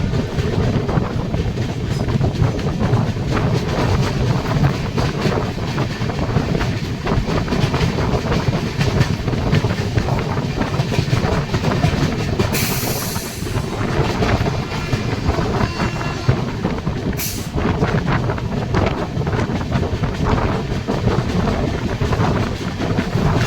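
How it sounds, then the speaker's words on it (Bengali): The Rupasi Bangla Express runs steadily along the line, a continuous loud rumble with rhythmic wheel clatter and wind buffeting, no voices. "ট্রেন গিরি ময়দান বলে একটা ছোট স্টেশন স্কিপ করছে"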